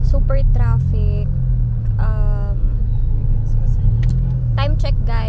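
Road traffic rumbles steadily from inside a car on a congested road, a constant low drone with passing engine noise, while voices talk over it throughout.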